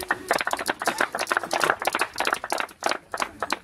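A small crowd at a family group gathering applauds, irregular close handclaps pulsing in uneven waves.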